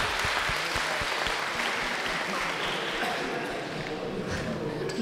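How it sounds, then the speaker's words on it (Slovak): Applause at a Slovak school graduation-party program, a dense sustained clapping from a crowd lasting the whole clip, fairly loud and even, with a few voices mixed in. "Potlesk."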